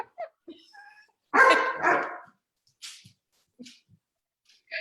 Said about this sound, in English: Children running in the background, dogs barking.